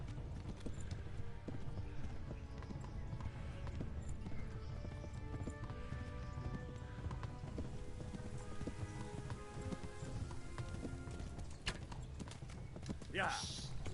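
A horse gallops in Kingdom Come: Deliverance 2, giving a fast, continuous clip-clop of hooves that stays steady and fairly quiet for the full fourteen seconds over a busy, rain-like background.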